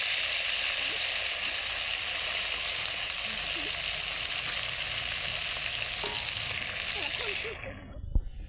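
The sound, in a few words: frying stuffed brinjal on a wood-fired stove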